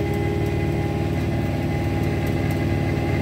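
Steady, close engine hum from a vehicle pulling a John Deere boom sprayer of about 110 to 120 gallons along a farm driveway, an even drone with no pauses.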